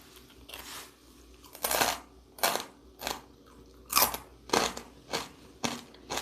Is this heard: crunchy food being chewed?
yes